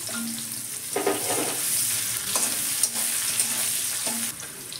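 Finely chopped onion sizzling steadily in hot oil in a pan, a continuous close frying hiss with occasional stirring scrapes.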